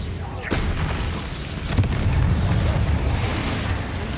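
Confringo fire-blast spell in Hogwarts Legacy: a sharp booming hit followed by a second impact, then a heavy, continuous low rumble that stays loud and close.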